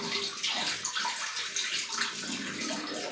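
Hot water runs from a tap to warm a razor before a shave, a soft continuous splashing and gurgling stream that stays fairly quiet and steady throughout.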